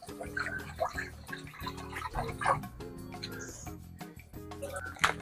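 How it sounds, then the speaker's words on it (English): Water running from a kitchen tap during home cooking, a continuous splashing, trickling flow with drips, heard close and moderately loud; no one speaks over it. "Is this ASMR for y'all? Like, are y'all hearing this? This water?"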